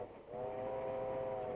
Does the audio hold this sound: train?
yes